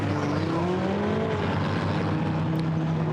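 GT4 race cars run at Brands Hatch, their engines droning loudly and continuously with rising pitch as several cars pass in a dense wave. No one speaks.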